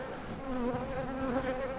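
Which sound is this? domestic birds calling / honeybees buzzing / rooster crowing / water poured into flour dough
honeybees buzzing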